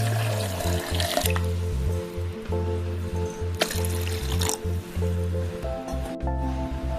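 Water poured from a vessel into a container of mint leaves, lemon and sugar for juice gurgles and splashes close by in several uneven bursts, with no talking.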